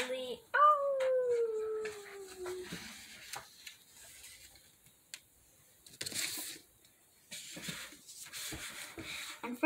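A voice imitates a dog howling with a rising, drawn-out wail near the start, followed by quieter rustling and faint scattered sounds.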